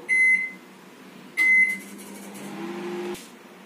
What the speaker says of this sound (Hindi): टेम्परिंग के लिए हम ऑयल डालेंगे थोड़ा सा और इसको माइक्रोवेव में गर्म करेंगे।